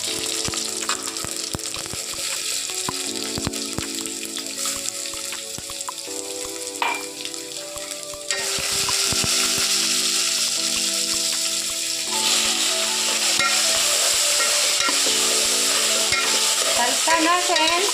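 Tempering seeds frying in hot oil for pappu charu, a loud continuous crackling sizzle with stirring scrapes, growing denser and brighter partway through, close and alone.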